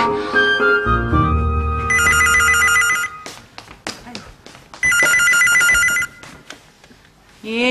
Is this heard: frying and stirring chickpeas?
no